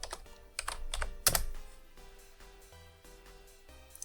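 Fingers type on a computer keyboard in a quick burst of close key clicks, a few louder strikes among them, with a faint tonal hum underneath and no speech.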